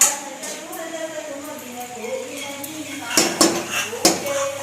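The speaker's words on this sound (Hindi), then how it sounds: "हमारे घर में अभी नाश्ता बनाते पोहा" Metal utensils and pots clank in a home kitchen while poha is cooked for breakfast, with sharp clatters near the end beneath ongoing conversation.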